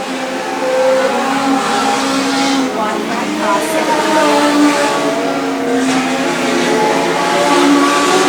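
Legend cars race around a track, their engines buzzing and revving in a steady roar with pitch that rises and falls as they circulate, while an announcer talks over the noise.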